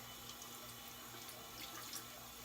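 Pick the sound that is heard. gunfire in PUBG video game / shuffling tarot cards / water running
water running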